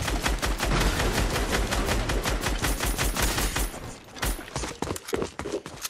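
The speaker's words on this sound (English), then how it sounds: "Shooting." Rapid bursts of automatic gunfire from the video game Fortnite crackle nonstop and loud, a dense stream of shots that thins out near the end.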